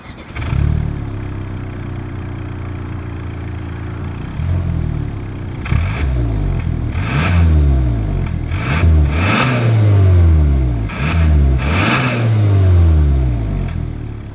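A 2024 Hyundai Santa Cruz engine revs repeatedly through its exhaust, a series of loud, close throttle blips that rise and fall in pitch over a steady idle, with no talking.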